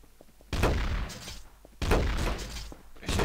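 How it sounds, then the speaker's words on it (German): Gunfire in the game Trouble in Terrorist Town: two heavy bursts of close shots land about a second apart, each with a crashing, rattling tail, and a third burst starts at the end. "Ich krieg hier so nahe Schüsse bei mir."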